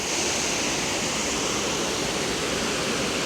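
Steady, dense roar of a waterfall on a wet, rocky stretch of the Appalachian Trail, loud and close, continuous without any break, with no voices heard.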